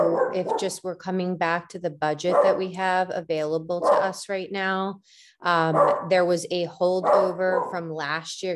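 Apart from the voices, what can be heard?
dog barking in the background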